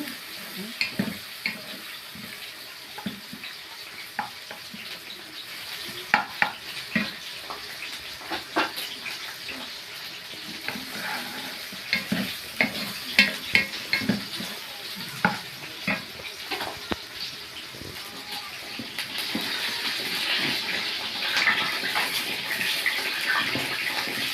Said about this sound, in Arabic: عماله اقلب فيها اهو عشان ما